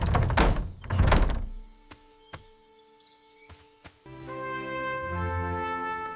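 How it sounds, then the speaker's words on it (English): A door slammed shut in a story, with two heavy thuds at the start, then a few sharp knocks and a ringing tonal tail. "He slipped out a window and slammed the door,"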